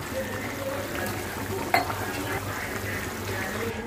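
Pieces of fish for an Uttarakhand fish curry go into boiling water in a pot, giving a steady bubbling and gentle sizzle with a sharp clink of a spoon partway through.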